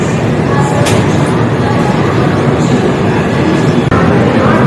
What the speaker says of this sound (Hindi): हमारी बिहार संपर्क क्रांति निकल रही है